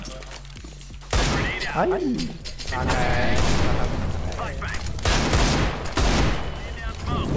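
Gunshots and explosive bursts in the video game Counter-Strike on a custom map, a loud busy stretch of sharp cracks and booms with players talking excitedly over the action.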